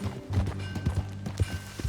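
In the Red Dead Redemption 2 video game, a horse walks with soft, close hoofbeats clip-clopping in a steady rhythm. The sound is brief and moderately quiet, and no one speaks.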